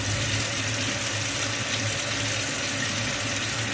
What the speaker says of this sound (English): I'm just going to rinse this under some water